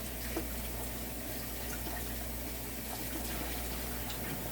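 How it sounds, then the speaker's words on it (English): Tap water runs steadily into a kitchen sink during handwashing, a constant soft rushing stream with a faint low hum underneath and no talking. "I'm gonna wash my hands"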